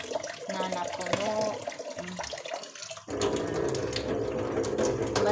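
Tap water runs steadily into a basin while a bathroom is being cleaned, a fuller, louder stream after about three seconds, with no talking over it.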